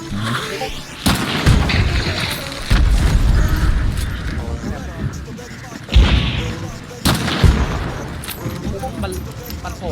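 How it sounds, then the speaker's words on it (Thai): Several heavy grenade booms burst out in the video game Hunt: Showdown, sharp blasts spaced a few seconds apart over mechanical rumble and background noise. "ระวังนะผมปาระเบิดนะ"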